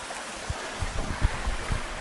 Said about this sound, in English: Beautiful little stream here going under this rocks